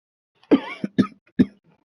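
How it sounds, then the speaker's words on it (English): A person coughs and clears their throat in three short, close bursts, with nothing else around them. "Still got that cough"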